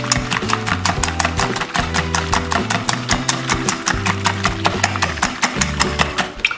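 Eggs with a squeeze of lime juice are beaten in a bowl, giving a quick, even run of light taps that carries on throughout over steady background music.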